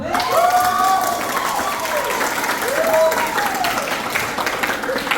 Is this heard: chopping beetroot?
no